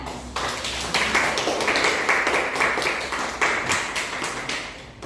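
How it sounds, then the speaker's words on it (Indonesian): Students clapping in a classroom during a micro teaching practice, a small group's applause starting suddenly, steady and close for several seconds, then tapering off. "Kepada siswa sekalian, silakan beri aplaus kepada Yolanda."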